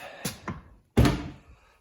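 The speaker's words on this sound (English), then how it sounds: "open the door" Door of a VW Mk4 car opened up close: a couple of light clicks from the latch and handle, then a heavy, dull thunk as the door swings free, with no talking.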